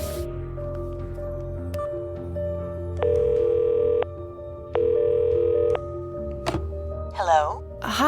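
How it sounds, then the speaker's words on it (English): In the video game Cognition: An Erica Reed Thriller, a telephone is dialed with short key tones, then gives two long steady ringing tones before a click as the line connects, with soft background ambience. "let's give Cordelia a ring with the correct number."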